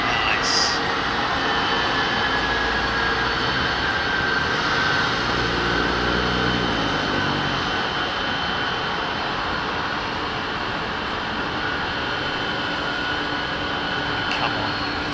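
A United jet airliner lands on the left-hand runway at an airport, with a loud, continuous engine roar and a slowly falling whine that fill the whole stretch without pause.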